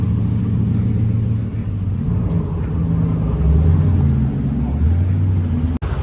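Porsche 918 sports car engine rumbling loud and near, its pitch rising and falling as it revs, with a sharp click just before the end.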